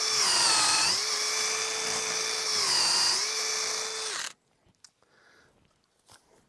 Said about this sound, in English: I'm going to drill in all the way down to my mark